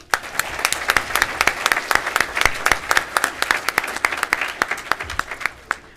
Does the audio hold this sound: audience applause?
yes